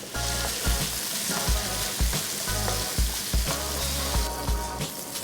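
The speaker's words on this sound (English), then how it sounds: "we're just gonna fry these pineapples" Diced sweet pineapples fry in a hot pan with a steady, close sizzle, broken by regular soft thumps and scrapes as the pieces are stirred.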